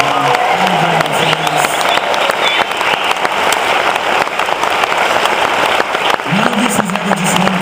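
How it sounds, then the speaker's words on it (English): Loud, sustained applause from a concert audience thanking the lighting and sound crew, steady crowd clapping throughout with a few voices and cheers rising through it. "Please give a huge round of applause for the lighting, sound, and everybody that brought the show on."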